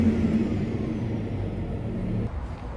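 Deep, steady rumble of a tractor engine running without its silencer, heard from inside the cab, where it is fairly muted, continuous and unchanging throughout.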